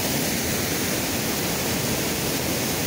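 A waterfall in the Black Forest of southwest Germany roars steadily and loudly up close, a dense, unbroken rush of falling water with no voices.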